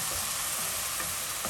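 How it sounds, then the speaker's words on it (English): Stock poured a little at a time into a hot pot for a one-pot breakfast, giving a dense, even hiss of sizzling liquid close up, with no talk. "So I'm gonna add a tiny bit of stock"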